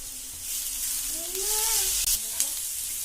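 Ginger garlic paste hitting hot oil in a pan for egg kabab, a bright steady sizzle close up with faint stirring scrapes and a couple of brief clicks, while a voice murmurs faintly underneath.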